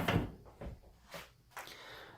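A drawer in a 95-square-foot apartment woodworking shop slides open and shut, giving several short wooden scrapes and thumps spaced through a quiet room.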